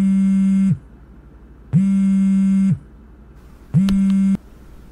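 A phone call rings in a Tagalog horror radio drama as three evenly spaced buzzing tones, each under a second long, loud and steady, with short quiet gaps between them.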